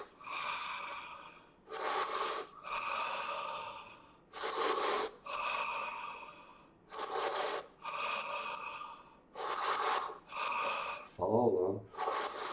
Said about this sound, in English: Start taking intense inhales, serene exhales, kind of a breath of fire.